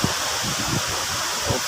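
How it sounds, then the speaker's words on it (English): Rapid rushing water at Maeya Waterfall in Chiang Mai, Thailand, a steady broadband roar with faint low splashes, close and constant, no voices. "Strong, rapid water."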